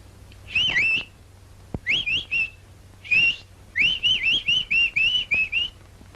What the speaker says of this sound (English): Ever heard the nightingale?